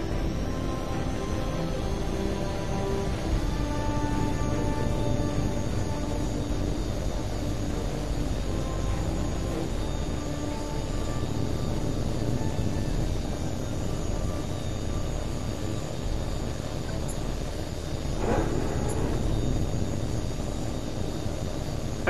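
A Eurofighter Typhoon jet in the combat flight game H.A.W.X. 2 roars steadily through its takeoff, a loud, continuous engine rumble that holds without a break and swells briefly near the end.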